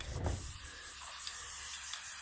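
A spray can hisses steadily and faintly as paint goes onto primed bare metal inside a converted school bus, with short bursts over a soft continuous spray.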